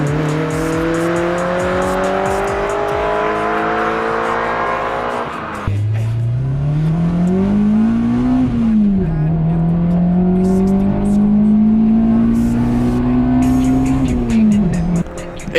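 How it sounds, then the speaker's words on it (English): A K-swapped Acura RSX revs up loudly on a dyno and holds a high, steady exhaust note, drops briefly, then climbs and sustains again before easing off. "it's a nice exhaust tone"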